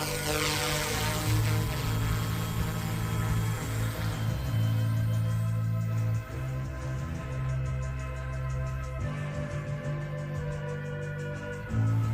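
A Yu Xiang F07 RC helicopter with a replaced servo arm spins up and flies. It makes a loud, close, high-pitched rotor and motor whine that rises and falls in pitch as the throttle changes, with no talking.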